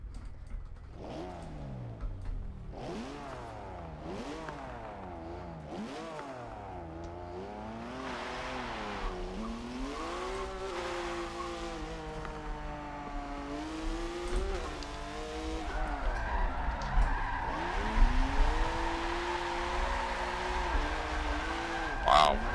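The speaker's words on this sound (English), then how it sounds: "I'm over blowing the tires off with too much wheel spin to that part" A drift car on street tires at the Long Beach track in Forza 7 revs hard with wheel spin, its engine pitch swooping up and down between shifts. Tires squeal and skid throughout, with someone talking over the engine noise.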